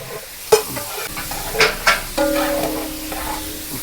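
Sliced onions sautéing with cardamom, cinnamon, pepper and cloves in a large pot for a big batch of chicken kurma, with sizzling oil and a few sharp scrapes and stirring knocks of a ladle.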